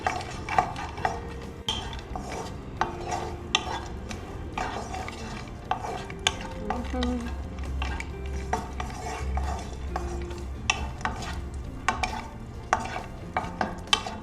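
Ingredients sautéing in a pan for a milk-based sweet pongal, a moderate sizzle under repeated metallic spoon scrapes and taps on cookware, close and steady, with no speech.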